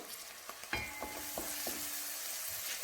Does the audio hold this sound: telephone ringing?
no